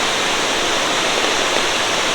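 Flooded river in the Great Smoky Mountains near Gatlinburg, swollen after Hurricane Ida, roars as a steady, dense rush of churning water, loud and unbroken with no voices.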